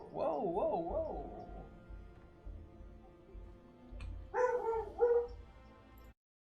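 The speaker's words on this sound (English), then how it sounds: "It would appear somebody is walking by, and my dog is quite excited by this." A dog barks and whimpers excitedly at someone passing outside, two bursts of high, wavering yelps indoors, the first around the start and a louder second flurry near the end after a quieter stretch.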